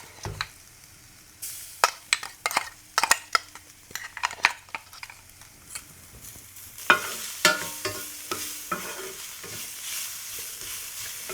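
Garlic, cumin and ginger-garlic paste frying in hot oil, a close sizzle with repeated sharp scrapes and clinks of a spoon stirring against the pan.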